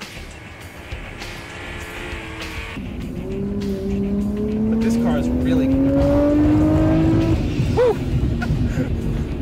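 A 1999 Nissan Skyline R34 GTR in a video game revs and accelerates, its engine tone climbing steadily through the gears with tire squeal, while someone talks over it.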